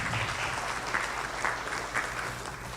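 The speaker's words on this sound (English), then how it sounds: "Let's clap for them again." Audience clapping for the champions at a regional learning conference on care reform, a steady dense patter of many hands with small swells, fairly close and continuous throughout.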